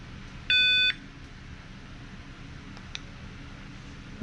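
A single sharp electronic beep from a bike alarm setting, loud and close, lasting about half a second, then near silence with faint background hiss.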